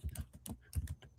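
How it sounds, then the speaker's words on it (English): Keyboard typing during an office documentation session, a quick run of soft clicking keystrokes in uneven bursts, fairly close and alone with no talk. "I just heard Kristján typing, I think."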